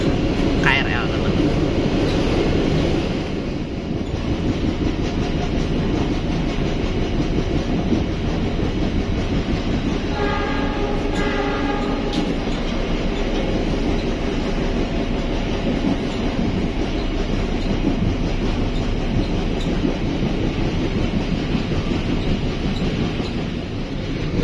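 The Pangrango passenger train on the Bogor–Sukabumi line near Mount Gede gives a steady, close rumble of wheels on rails that runs throughout, with a few brief clattering passages partway through and voices talking over the noise.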